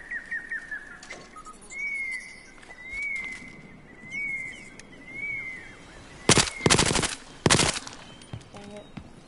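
Gunfire in the video game Battlefield Hardline, with two sharp bursts of shots near the end after a stretch of ambient bird chirps and whistles.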